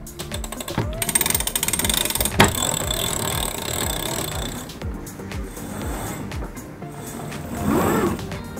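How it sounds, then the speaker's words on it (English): The winch on a Bavaria C50 sailboat ratchets as the jib sheet is handled, giving a fast run of loud, dense clicks followed by steadier mechanical clatter and grinding, close by and without speech. "put the furling line around the winch, and on the other side, remove the jib sheet from the winch"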